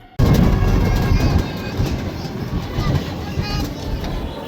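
Train rumbling at an Indian railway station at night, a loud, steady low roar with mechanical clatter that sets in abruptly and then eases slightly, with faint crowd noise mixed in.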